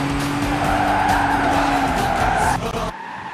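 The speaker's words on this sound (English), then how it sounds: "Tiny drift toward the exit, then through." A 2012 Nissan GT-R drifting on a race track: loud sustained tyre squeal over the roaring engine, ending with a sudden cut near the end.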